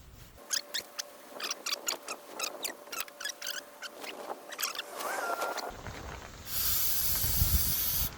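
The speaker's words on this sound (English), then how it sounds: "just spray a little brake clean on my rag" Brake cleaner sprayed from an aerosol can onto a rag while working on a 5.9 Cummins, heard as a long steady close hiss that follows several short bursts of spray.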